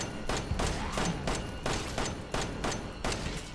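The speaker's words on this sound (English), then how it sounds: "Unload your ammo into her." Rapid bursts of gunfire in Resident Evil 7 as ammo is emptied into an enemy, sharp close shots repeating roughly every few tenths of a second with no pause.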